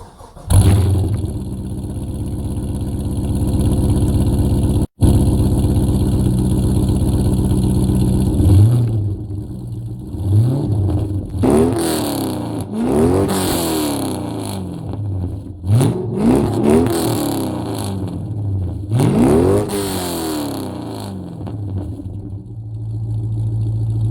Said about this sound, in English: Nothing beats the sound of a V8.